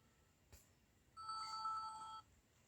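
A single telephone rings once in a short electronic trill, clear and fairly close against a quiet room, after a faint knock.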